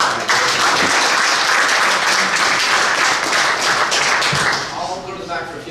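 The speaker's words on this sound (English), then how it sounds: "Can we get a round of applause for" An audience gives sustained, dense applause after a legal presentation to cannabis operators, steady and loud for about four seconds before fading as a voice begins.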